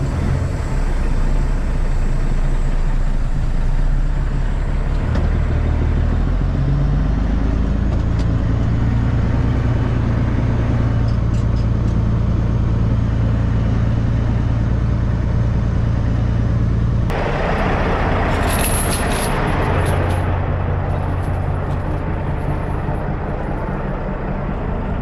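A heavy haul truck's diesel engine drones loudly and continuously while the truck pulls around a corner, the low rumble shifting in pitch partway through, with a burst of higher hiss or clatter near the end.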